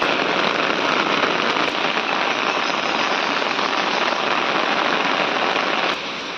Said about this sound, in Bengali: এত সুন্দর বৃষ্টি হচ্ছে, তার জন্য আমি ভিডিও করতে চলে এসেছি।